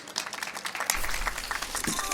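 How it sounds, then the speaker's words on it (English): An audience at a beauty-innovation talk in Copenhagen applauds, dense and fairly quiet clapping sustained for about two seconds. "Big round of applause for Suzan Schlag."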